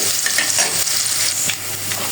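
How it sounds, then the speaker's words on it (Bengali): A short burst of close, steady sizzling from food frying in a pan, with soft scraping stir sounds and no talking. "প্রথম পেঁয়াজটা লাল লাল করে ভাজা নিব"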